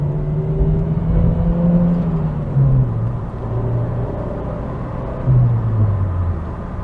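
A Ford Focus Mk1 Millennium Edition drives and turns into a bend, its engine droning steadily inside the cabin with rising and falling pitch as the revs change over a low road rumble.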